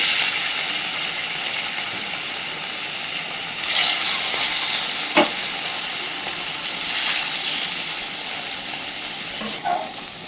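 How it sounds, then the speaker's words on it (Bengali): Steady loud sizzling of rohu fish frying in hot oil, with occasional sharp pops and crackles rising above the continuous hiss. "মাছগুলোকে সুন্দরভাবে ভেজে নিতে হবে"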